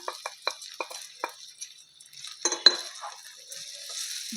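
Sabudana pulao with fried potatoes being stirred and fried over a low flame, a series of sharp spoon scrapes against the pan at an uneven rhythm over a faint sizzle, close and quiet, no speech.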